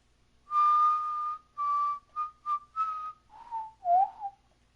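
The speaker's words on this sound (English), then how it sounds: "That was my horrible attempt at whistling the Jurassic Park theme." A single person whistles the Jurassic Park theme alone, a melody of sustained and short tones in about eight phrases, close and clear, slightly wavering, with no talk.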